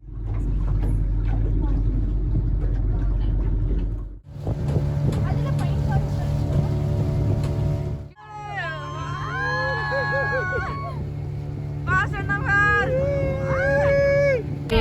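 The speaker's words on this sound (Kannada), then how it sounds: "boat ride" A motorboat on Pykara Lake near Ooty drones loudly and steadily with wind noise, the engine roar dipping briefly twice, while people talk over it in the second half.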